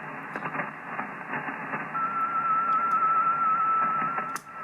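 Band noise on the 40-meter amateur radio band received through a dipole antenna: a steady band-limited hiss with crackling static and a faint warbling carrier tone through the middle.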